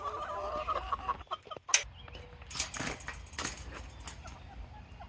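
Chickens cluck and squawk in a chicken run, several birds close by giving scattered, uneven calls over a low background rumble.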